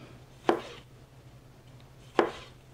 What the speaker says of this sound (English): These tomatoes, I'm going to just go ahead and get them all diced up, and just like so.